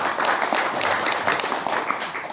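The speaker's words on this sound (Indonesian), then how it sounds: "Ya, tepuk tangan nih." A crowd of about four hundred people gathered at a martial arts retreat claps together, producing a full, steady burst of applause that holds level throughout and then tapers slightly at the very end.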